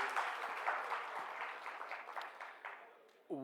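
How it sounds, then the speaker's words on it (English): Modest audience applause at a stakeholders conference, clapping fading gradually over a few seconds before a voice begins at the very end. "I think he deserves another round of applause"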